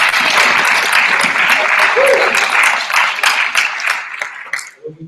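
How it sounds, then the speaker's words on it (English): A debate audience gives the speakers a final round of applause, loud and sustained at first, then thinning and fading away toward the end. "one final round of applause for all the speakers as a whole who have come down here to address us today."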